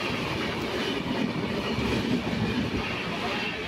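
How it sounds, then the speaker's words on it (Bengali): The Down 12338 Shantiniketan Express rushes past close by, a dense continuous rumble of wheels and carriages with faint clatter throughout. "এখন আমাদের পাশ দিয়ে চলে যাচ্ছে ডাউন 12338 শান্তিনিকেতন এক্সপ্রেস"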